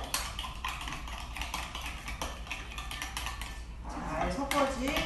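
Quick clattering taps of a utensil beating egg in a bowl, a rapid uneven rhythm, close by and fairly quiet, with a brief burst of stirring near the end.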